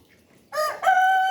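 A rooster crows loudly and close in the rain, a short opening note then a long drawn-out call after a moment of quiet.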